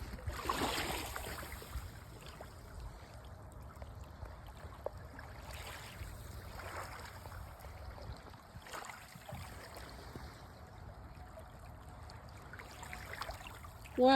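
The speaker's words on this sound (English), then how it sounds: "Just listen to the water one more time before we go." Water washes and trickles along the shore at a beach, a steady, even flow with no voices over it, heard from near by.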